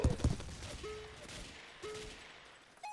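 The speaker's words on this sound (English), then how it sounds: "I'm not a good sniper, but I'm sniping if I have to." Sniper rifle gunfire in the Ace of Spades video game: a loud shot right at the start, followed by fainter pops and metallic game tones across about three seconds.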